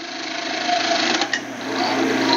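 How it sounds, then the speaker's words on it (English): A wood lathe spins a bottle stopper blank while a 3/8 inch bowl gouge cuts it. The whir is steady and loud, with a continuous scraping hiss and brief changes in the cut. "Just using that 3/8 inch bowl gouge here."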